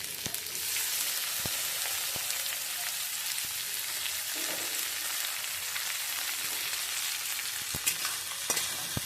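Chopped capsicum and tomatoes frying in a pan while being stirred, a dense, continuous crackling sizzle with occasional sharp ticks of the utensil, close and steady throughout.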